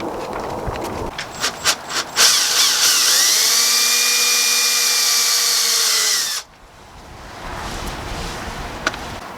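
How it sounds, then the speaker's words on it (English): A few sharp taps and clicks, then a power drill whirs loudly and steadily for about four seconds, drilling rivet holes for DIY rear fenders on a Ram 5500 chassis cab, before stopping, leaving quiet room noise. "now we just have to drill 1, 2, 3, 4, 5, 6 holes and put some rivets in"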